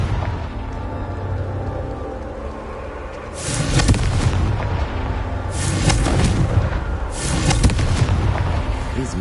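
The Confringo explosion spell fires in Hogwarts Legacy, giving three loud fiery blasts a couple of seconds apart. Each burst booms and crackles over a low ambient hum.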